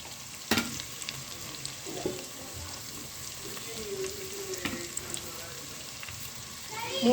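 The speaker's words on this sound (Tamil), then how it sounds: "தக்காளி கொஞ்சம் வதக்கணும்" Tomatoes sautéing in a pan: a steady, soft sizzle and crackle, with a few clinks and scrapes of stirring, nearby and unaccompanied by talk.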